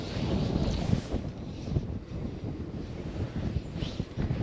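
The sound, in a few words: strong wind while winter fly fishing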